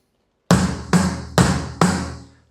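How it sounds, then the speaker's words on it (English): Bass drum, snare and third tom hit together on a drum kit, four solid combined strikes roughly half a second apart, punchy and close with a ringing decay after the last, no voices. "where we have to play bass, snare, and tom-3 all together"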